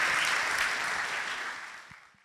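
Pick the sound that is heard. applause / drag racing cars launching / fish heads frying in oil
applause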